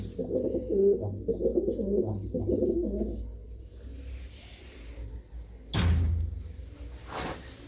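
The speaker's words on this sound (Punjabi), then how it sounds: "ਬਹੁਤ ਹੀ ਸ਼ਾਨਦਾਰ ਕਬੂਤਰ ਨੇ ਵੀਰ ਦੇ" Domestic pigeons coo close by in a few soft, throaty bursts, quiet overall, followed by a couple of short sharp knocks.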